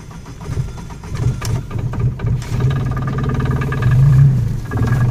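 A 2017 Microcar M.GO Highland X small car starting up and idling, a low, steady engine hum with a slight rise in revs, heard close with no talking.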